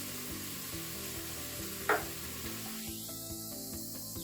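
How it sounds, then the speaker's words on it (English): Ingredients frying in a Crockpot Express, with a steady low sizzle and a single sharp crackle partway through, close and alone. "we just want to allow this to fry for a couple of minutes"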